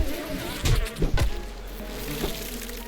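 A bee swarm buzzing in the survival video game 7 Days To Die, a steady insect drone with a few louder thumps and surges near the start, no talking.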